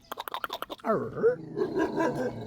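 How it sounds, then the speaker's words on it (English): A dog barks in a quick run of about eight sharp barks, fairly close, at a carpentry shop in a rural market town in Imsil, Korea, followed by a person talking. "We have dog, another dog over there."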